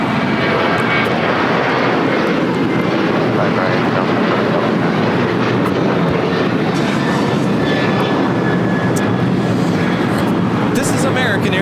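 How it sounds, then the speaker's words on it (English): An American Airlines Boeing 737-800 taking off at LAX, a loud sustained engine roar filling the scene without letup, heard from nearby. "This is American Airlines 2689 taking off to Chicago O'Hare on a 737-800."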